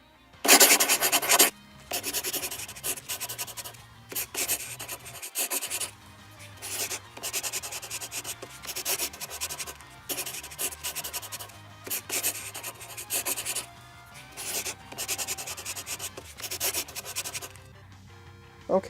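Several players scratch out their Diplomacy moves on paper, producing bursts of pen-on-paper scribbling and rubbing in uneven spurts, close and clear with brief pauses between strokes.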